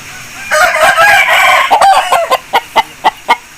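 An Aseel rooster, a seven-time winning show bird, crows loudly and close, a long drawn-out call followed by a run of short, evenly spaced clucks.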